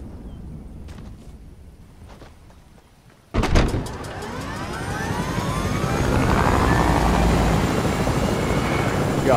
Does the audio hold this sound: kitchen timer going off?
no